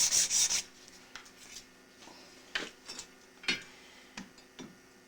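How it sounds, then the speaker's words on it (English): Light rubbing strokes of 400-grit sandpaper on a belt dressing an engine part, a quick burst at the start and then scattered short scrapes, soft and close, with no voices. "So a very light dressing with pretty much 400 grit sandpaper"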